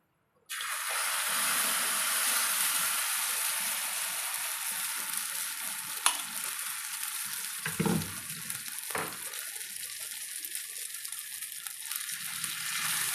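Oats omelette batter sizzling in hot oil, a loud steady frying hiss that starts abruptly and carries on throughout, with a few brief knocks from a utensil partway through.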